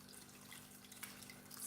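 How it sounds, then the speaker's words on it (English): Tap water runs steadily into a soup pot in a homestead kitchen, a faint, continuous splashing stream with no talk over it. "adding more water, because we need it and we are going to need more"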